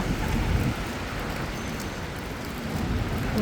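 Steady, dense rain noise fills the scene, a continuous wash of falling water with faint traffic-like rumble beneath.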